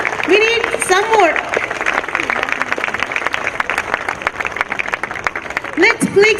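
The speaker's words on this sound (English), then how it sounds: "Let's give them one more big round of applause." A school annual day audience applauds in a steady round of clapping under an announcer's amplified voice, which speaks at the start and again at the end.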